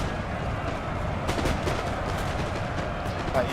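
Musket volleys ring out in a Napoleon Total War online battle, a dense, continuous crackle of distant massed gunfire with a few sharper reports, no talk over it.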